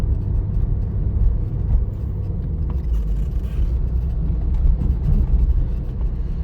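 A car drives along during a practical driving exam and turns right, heard from inside as a steady low engine and road rumble that holds at a constant level throughout, with no talk over it.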